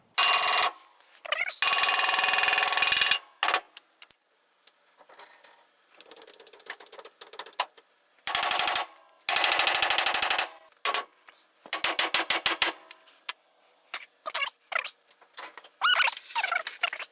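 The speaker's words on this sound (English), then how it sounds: "let's grab a hammer" Hammer blows on a Mustang or Fairlane being readied for a duct-tape drag race, heard as loud bursts of rapid metallic striking separated by quieter pauses and scattered lighter taps.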